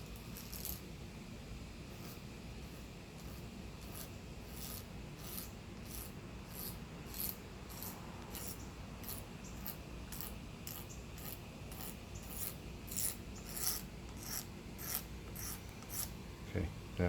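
Steady rasping strokes of a file and scraper working an Ibanez guitar pick guard, a continuous gritty rub with a run of sharp, regular scrape accents that grow denser toward the end, close and fairly quiet with no talk.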